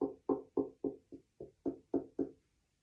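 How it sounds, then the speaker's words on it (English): Nine hollow knocks of a hand on the wooden body of a violin, evenly paced and close, each a short dull thump with a quick decay, with no voices. "knock on the body of your violin"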